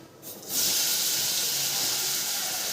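Eggplant pieces hit a hot pan with turmeric and homemade spice masala, bursting into a loud, steady sizzling hiss that holds without a break.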